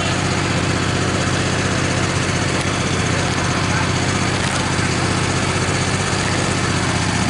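Sawmill engine runs loud and steady while the saw cuts 1 inch white ash boards, a continuous dense drone with faint bursts of cutting noise and no clear speech.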